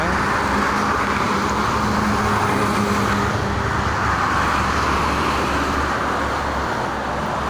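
Steady toll road traffic of private cars and freight trucks, a continuous broadband roar with low engine rumble from heavy vehicles rolling past, no voices.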